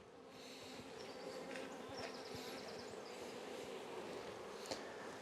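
A dense, steady buzz of many honeybees in a hive fills the air continuously, with occasional closer insects droning past.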